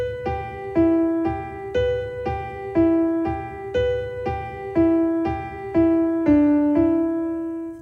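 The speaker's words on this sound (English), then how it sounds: "a legato playing sounds like this." Smoothly connected legato notes on a piano-like instrument, played as a steady stepwise melody. Each note flows into the next without gaps, near and clear, with no talking.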